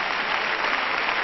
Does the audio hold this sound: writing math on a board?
no